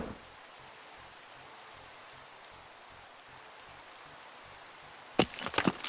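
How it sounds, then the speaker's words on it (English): Rain weather effect from a Pokemon battle animated in Minecraft with the Cobblemon mod: soft, steady rain hiss and light pattering, ending with a few sharp, louder crackling hits. "Otherworld sets up Rain to boost his attacks"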